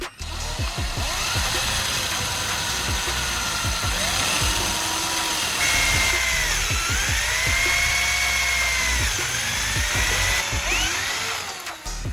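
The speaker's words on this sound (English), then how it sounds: "After securing the piece, I proceed to drill a hole at the mark point." A power drill whirs steadily through a piece of wood for the whole stretch, boring a hole, its pitch rising and falling as the bit bites and eases, close and loud.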